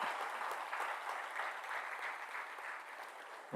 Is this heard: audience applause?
yes